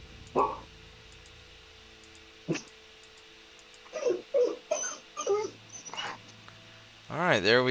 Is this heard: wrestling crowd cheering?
no